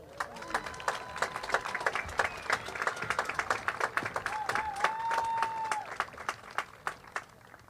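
A graduation ceremony crowd at Westford Academy breaks into sustained applause, many hands clapping steadily in a large room with scattered whoops.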